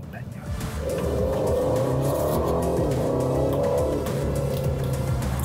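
An Aston Martin DB12 accelerates on the road, its engine note rising and swelling into a loud, sustained roar before easing slightly near the end.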